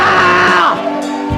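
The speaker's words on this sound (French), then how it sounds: "Est-ce que quelqu'un peut se lever et pousser les cris de joie?" A church congregation at a prophetic service shouts cries of joy, loud overlapping voices and screams that swell and then ease, close by and filling the room.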